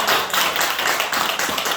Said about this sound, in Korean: 우리 박수를 함께